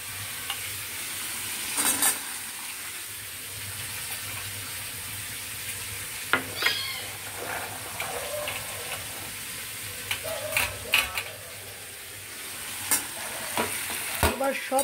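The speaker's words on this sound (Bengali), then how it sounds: "এবার সব কটা সবজি খুব ভালো করে মেশাতে হবে।" Mixed vegetables, diced eggplant and drumstick stems among them, frying for sukto in a pan, with a constant soft sizzle and intermittent sharp scrapes and clinks of a spatula stirring close by.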